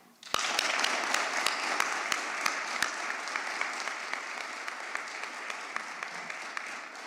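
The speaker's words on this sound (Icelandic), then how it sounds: "Vil ég svo gefa öllum vinningshöfum og öllum útskriftarnemar aftur gott klapp." A graduation ceremony audience at Verkmenntaskóli Austurlands applauds graduates and prize winners. It starts suddenly as steady, moderately loud clapping, with a few sharp individual claps standing out near the start.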